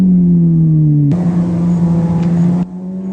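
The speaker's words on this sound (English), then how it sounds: "Too early downshifting uses the engine as a brake and over-revs it" A motorcycle engine flares up sharply as it is downshifted too early, a loud raised whine holding for about a second and a half before dropping back to a steady lower idle-like drone.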